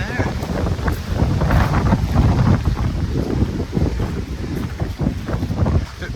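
Strong wind buffets the microphone on a mountain top above a town, a continuous rough roar with gusty surges throughout.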